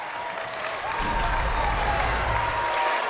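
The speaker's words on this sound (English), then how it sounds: "The crowd is going crazy." Crowd in a high school gym roars during a Group 2 playoff basketball game between Manchester Township and Camden High, a loud sustained wash of cheering and clapping that swells after the first second and holds.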